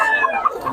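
A brooding hen, a Pumpkin Hot breed at a gamefowl gathering in Bocaue, gives a short, loud burst of close clucking.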